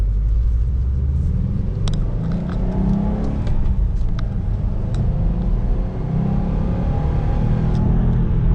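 A 2018 Subaru Impreza STI engine pulls hard, a close, loud rumble rising and falling through revs with rushing road noise and a few faint ticks layered over it.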